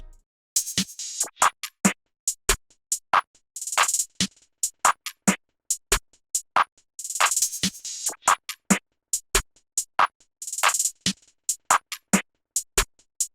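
A programmed percussion loop built in FL Studio for an ambient beat, with crisp open hi-hats, snares, a perc, and an accent clap hitting in a steady repeating pattern, with bright sustained hat washes recurring every few seconds; no talking.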